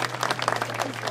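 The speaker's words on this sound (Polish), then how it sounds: "brawa dla nich" Applause at the Grunwald 2016 battle reenactment, a steady wash of many hands clapping for the paramedics, with a low hum underneath and no talk.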